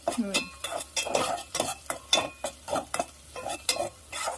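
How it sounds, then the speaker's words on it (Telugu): Green chillies frying in a pan and being stirred for a broad bean curry: rhythmic scraping strokes, about two a second, over a soft oil sizzle, close and clear with no talking. "మిరపకాయలు అయితే మంచిగా వేగుతున్నాయి"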